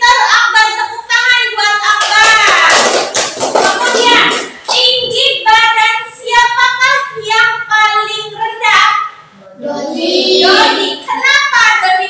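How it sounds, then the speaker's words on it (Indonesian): A classroom of young children claps for a classmate in a short burst of scattered hand claps mixed with excited voices, followed by children and a teacher talking and chanting close by. "Tepuk tangan buat Akbar."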